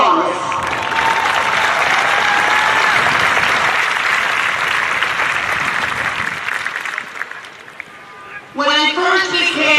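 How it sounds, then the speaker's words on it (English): Sustained applause from a large crowd at a high school graduation ceremony, dense and loud for about eight seconds, fading briefly before a voice begins speaking near the end. "you deserve a round of applause."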